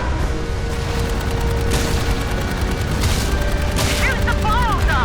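Loud gunfire in the video game Dark Void fills the whole stretch as a dense, continuous barrage of shots and booms, with a few short whistling tones near the end.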